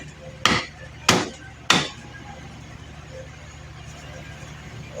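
Three sharp, loud chopping thuds a Dickinson knife makes while separating pork chop from pork belly on a board, evenly spaced in quick succession, followed by quiet room noise.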